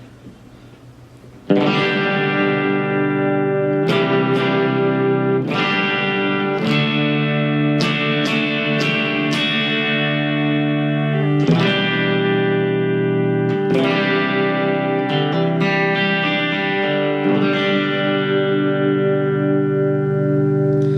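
Electric guitar through an overdrive pedal on its second gain stage, a string of distorted chords and single notes played with bite and sustain, each attack ringing into the next.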